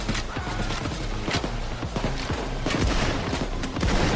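Dense video-game gunfire in Payday 2, a steady barrage of rapid shots and impacts at a fairly loud level, with clatter layered throughout and no clear speech.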